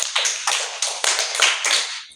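A classroom of students claps together for a classmate at a spoken English class, a dense, bright patter of many hands in several short bursts, loud and near, with no talking over it.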